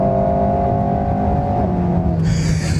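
An Alpine A110 GT mid-engined sports car accelerates hard in sport mode, its engine note loud and close with rising tonal harmonics, then an abrupt shift near the end as the pitch drops.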